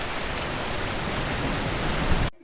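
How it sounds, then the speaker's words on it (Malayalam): Heavy rain pours steadily onto a surface, a dense unbroken hiss that cuts off abruptly at the end. "ദേ കണ്ട മഴ വന്നത്?"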